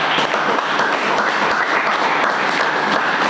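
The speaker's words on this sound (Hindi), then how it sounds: "क्या परमेश्वर की महिमा के लिए ताली बजा सकते हैं?" A congregation at a Sunday church service in Balrampur claps for the glory of God, loud, dense applause from many hands, steady from start to finish.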